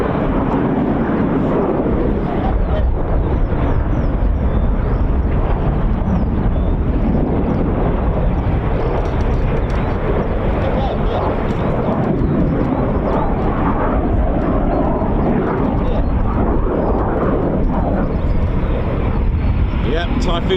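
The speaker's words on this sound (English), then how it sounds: "Sounds like the Typhoons are taxiing." Eurofighter Typhoon jets taxiing during a military air exercise at RAF Waddington, a loud, steady broadband jet roar with wind buffeting the microphone, continuous throughout, with voices talking over it.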